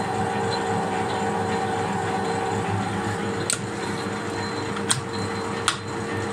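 A Harrison L6 lathe power-feeds its cutting tool forward, a steady mechanical drone of gears and motor with a few sharp clicks near the end.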